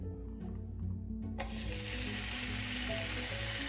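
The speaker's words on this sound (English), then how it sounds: "Small amount of oil, just to fry them a bit." Food dropped into a small amount of hot oil for Filipino spaghetti sauce, quiet at first, then an abrupt, steady hiss of sizzling that fills the rest of the moment.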